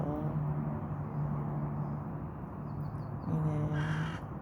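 Crows being fed outdoors give repeated harsh caws at moderate distance over a steady background hum, calling in several bursts with no talk.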